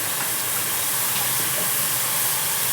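A gas stove burner with a pot of milk on it gives off a steady, close, airy hiss that stays even and unbroken throughout.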